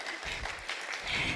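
An audience claps in a workshop hall, a short burst of scattered, moderately loud applause lasting about a second.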